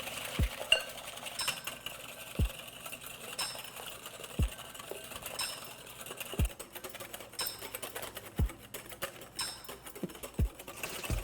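Aquafaba being whisked by hand in a bowl for vegan baking: faint, quick scraping and tapping with sharper knocks recurring about every second, steady throughout with no voices.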